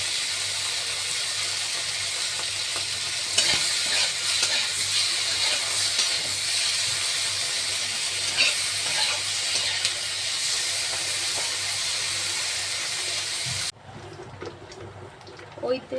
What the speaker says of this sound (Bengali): এবার আমি চিংড়ি মাছটা ভাজবো। চিংড়ি মাছটা ভেজে নিই।